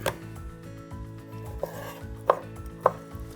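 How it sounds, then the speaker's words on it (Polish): A knife chops chicken fillet into cubes on a cutting board, with a few sharp, uneven thuds over a low, steady hum of kitchen noise. "fileta kroję w kostkę"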